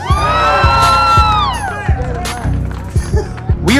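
A political rally crowd in San Francisco cheers and whoops, loud and close, with shouts and bangs rising over steady crowd noise.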